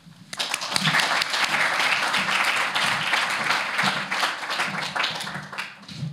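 An audience at a literature festival opening reception applauds steadily as a speaker is welcomed to the podium, a dense sustained clapping that fades slightly at the end.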